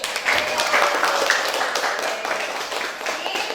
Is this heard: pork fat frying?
no